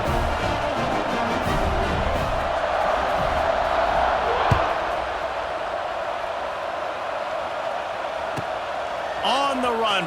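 A stadium crowd in the college football video game EA Sports College Football 26 roars steadily and loudly for the whole stretch. There are a couple of sharp thuds. The noise swells slightly near the end.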